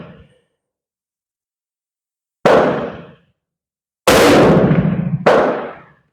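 A Dutch Mannlicher rifle fires sharp, loud outdoor shots, three in all, each a sudden crack with a decaying echo, the last two following in quick succession.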